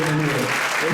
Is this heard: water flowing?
no